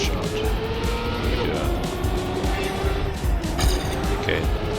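A car drifts through a Trackmania race, engine roaring steadily with tires squealing and skidding near, continuous and loud.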